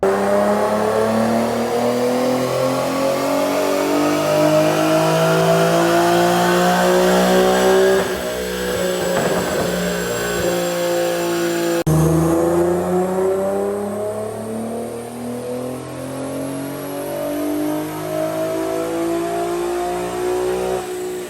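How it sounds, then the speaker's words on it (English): An Infiniti Q50's engine and exhaust rev hard on a dyno, the loud tone climbing steadily through a long pull before cutting off abruptly, followed by a lower, smoother engine drone. "I noticed the car sounded, the overall tone didn't sound that different as you could tell on the dyno run."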